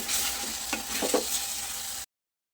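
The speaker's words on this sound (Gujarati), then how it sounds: "હવે લાસ્ટમાં લીલા ધાણા સમારીને રાખેલા છે એ ઉમેરી દઈએ બધું સરસ મિક્સ કરી લઈએ" Chopped green coriander stirred into a simmering green eggplant oro in a pan: continuous close frying hiss with a few soft scraping strokes, cut off abruptly near the end.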